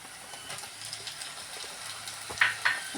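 Onion and tomato fry in a pan for a chicken liver masala, giving a steady soft sizzle with faint stirring and two brief clinks near the end.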